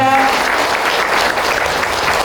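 A lecture audience claps in a loud, dense, continuous round of applause that holds steady throughout, with a brief tonal voice-like trace at the very start.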